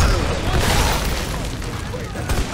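A frag grenade explosion in Army of Two: The Devil's Cartel, a heavy low boom opening the moment and decaying into rumble and debris, loud and close, with voices over it.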